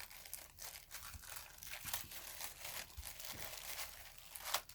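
A paper cut-out peeled gently off a Detailed Hearts die gives faint, close crinkling and soft tearing in small uneven bursts, with nothing else heard.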